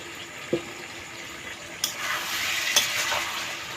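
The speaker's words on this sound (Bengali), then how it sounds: "মশলাটাকে ভালো করে কষাবো এখন" Spice paste frying for a Bengali cabbage curry, a steady close sizzle broken by a few sharp scrapes and knocks of a spoon stirring the pan, with no talk.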